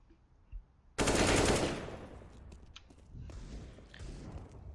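Automatic gunfire bursts out loudly during a competitive Counter-Strike esports match, followed by scattered shots, footsteps and game noise with a faint voice underneath.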